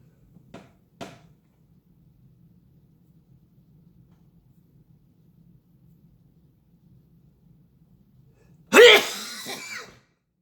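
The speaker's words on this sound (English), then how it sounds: "when I sneeze, I feel like I'm going to explode" A single loud, explosive sneeze bursts out near the end, after a long quiet stretch of low hum and a couple of faint clicks early on.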